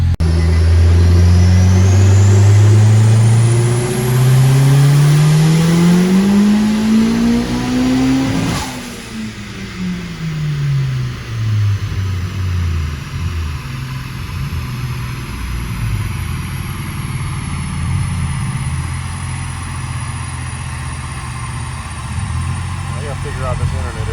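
A tuned Nissan Juke making over 500 wheel horsepower revs hard, its engine note climbing steeply, then drops back to a steady, rumbling idle that runs on loud and close.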